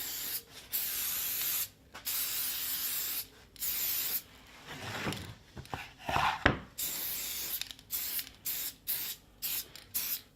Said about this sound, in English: this is a mould release spray